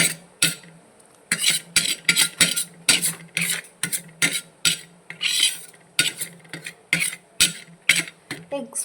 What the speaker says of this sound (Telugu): ఇలా అన్నీ వేసుకొని కలిసిపోయేలా, అన్నీ కలిసేలా ఇలా కలుపుకోండి.